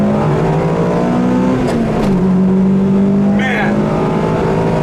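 A 1992 Honda Civic EG hatchback with a swapped JDM B18C GSR engine accelerating out of a corner, a loud, steady high-revving drone with a brief pitch dip around a shift, heard from inside the car.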